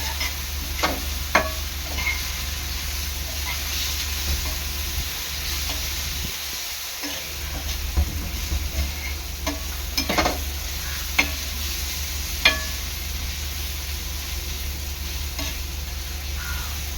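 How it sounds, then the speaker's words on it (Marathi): A spoon stirs turmeric into a masala in a pan for the clay dish karadi fry, with steady scraping strokes and a few sharp knocks against the pan over a constant low sizzle. No one speaks. "हळद चांगली मिक्स करून घ्यायचं मसाल्यामध्ये"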